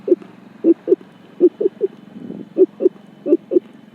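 A man mimics the mahuka bird's call with low, hooting notes in pairs, repeated steadily at close range with no talk.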